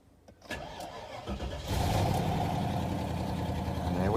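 A Land Rover Discovery 2 with a 4.6 V8 engine cranks and fires up, a brief starter whir followed by the engine catching and settling into a loud, steady, close rumble.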